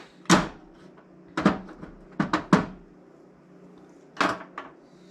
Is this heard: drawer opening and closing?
yes